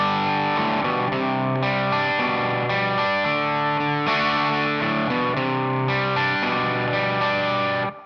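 Distorted electric guitar playing a song, a thick, loud run of chugging power chords and ringing accents with heavy effects, played alone and cutting off at the end.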